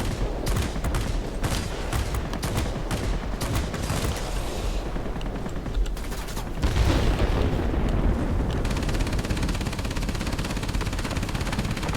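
Rapid machine-gun bursts from an aircraft's rear gunner in the World of Warplanes game, aboard an XP-58, dense and continuous with booming impacts, loud and close, with a brief swell in intensity partway through.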